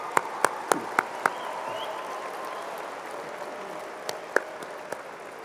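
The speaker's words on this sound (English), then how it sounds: "why doesn't everybody give all of the family members a round of applause?" Large commencement ceremony crowd applauding family members, a broad distant wash of clapping with a few sharp nearby claps standing out, steady and moderately faint throughout.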